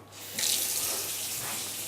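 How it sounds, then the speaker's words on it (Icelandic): Cold tap water, not geothermal hot water, runs from a kitchen faucet during soup cooking: a sudden start, then a steady, close rushing stream with no voices. "Þetta er kalt vatn, ekki hitaveitu vatn."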